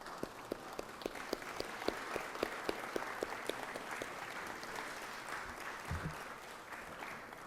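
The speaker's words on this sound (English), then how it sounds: "Stand up and let's everybody give them applause and thank them for their efforts in the community" Applause fills a state Senate chamber during a session, a dense wash of many hands clapping steadily with a few sharper, regular claps standing out near the front, fading slightly toward the end.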